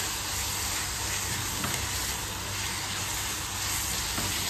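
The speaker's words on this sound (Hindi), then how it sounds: "और इसको फिर से अच्छी तरह से भून लेंगे" Chicken fries in a pan with red chilli powder and green chillies, giving a steady, close sizzling hiss that runs evenly throughout with no talking.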